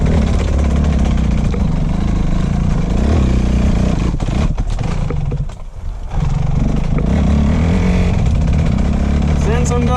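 A dirt bike rolls downhill in first gear on engine braking, its motor a steady, loud, close drone with a short dip midway, on a forest trail near a lake campground.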